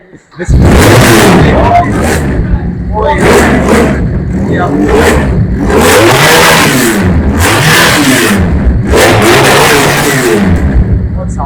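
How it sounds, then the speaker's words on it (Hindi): A blue BMW sports bike fires up and revs hard in repeated rising and falling bursts, loud and close, with engine roar filling the whole stretch while people talk over it. "सर अब हम इस वाली के ऊपर शिफ्ट होते हैं, ब्लू वाली BMW, इसको हम स्टार्ट करेंगे।"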